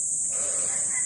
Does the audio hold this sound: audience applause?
no